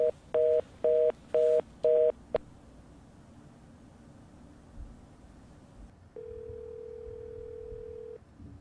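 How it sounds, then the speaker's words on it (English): Touch-tone keypad beeps dial a number on a telephone after a prepaid calling card prompt. Four quick, evenly spaced tones sound close and clear, then a pause, then a single long, steady call tone. "Please enter the telephone number you wish to dial now."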